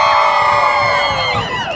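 A loud crowd on the Hollywood Walk of Fame cheers and shouts continuously, full of children's high-pitched screams and whoops, with a steady roar swelling throughout.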